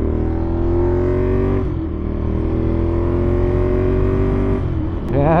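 Ducati Monster 821 motorcycle engine running close up with a steady low rumble, wavering and dipping as it struggles to hold idle, with a brief rev at the end.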